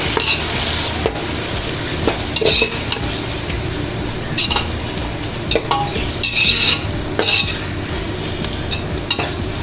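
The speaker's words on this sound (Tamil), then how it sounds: "சேர்த்து அதையும் நல்லா கிண்டி விட்டுருவோம்." Tomatoes frying in a pan, stirred with a utensil, a steady sizzle underneath and intermittent scraping and clinks of metal against the pan, close and clear with no talk.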